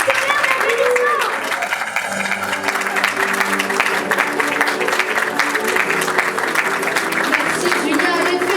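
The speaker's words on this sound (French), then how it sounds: "tonnerre d'applaudissements." Film festival award ceremony audience applauds steadily and fairly loudly throughout, with crowd murmur and voices talking over the clapping.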